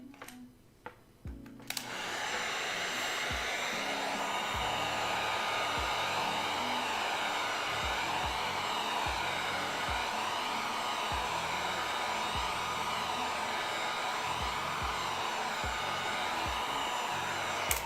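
A heat gun heat-treating cosplay armor material switches on with a couple of clicks and then blows a loud, steady rushing whoosh up close, with faint tapping and knocks underneath.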